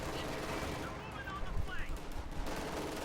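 Rifle gunfire crackles in a Company of Heroes 2 battle as infantry fire on a sniper, with rapid overlapping shots in a dense, noisy mix of combat sounds.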